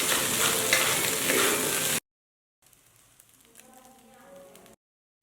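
Egg fried rice with peas, carrot and shrimp is stir-fried in a wok, starting with a loud, dense sizzle and scraping, then a brief silence and a quieter, crackling fry.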